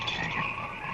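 Frogs croak in a dense, continuous chorus from a 1970s American International horror picture trailer, a steady mid-pitched throbbing with no voices over it.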